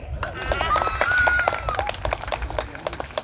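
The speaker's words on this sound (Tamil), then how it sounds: "அந்த அம்மாவுக்கு ஒரு கைத்தட்டு" An audience claps for a woman at a temple Maha Shivaratri festival in K. Velayuthapuram, Kazhugumalai, a brief burst of applause with speech running over it.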